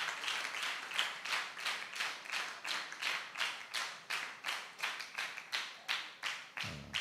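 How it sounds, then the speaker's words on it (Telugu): A group claps hands at a church youth meeting in a CSI church hall. The claps come in a quick, even rhythm, a close, bright, rhythmic patter that keeps going for several seconds with no talking. "చప్పట్లు కొట్టండి"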